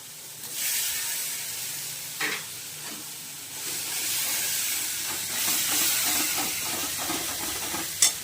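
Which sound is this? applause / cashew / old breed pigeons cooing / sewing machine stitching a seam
cashew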